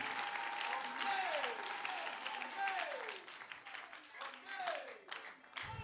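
A church congregation claps and applauds loudly throughout, with sliding, singing-like vocal tones rising and falling above the applause.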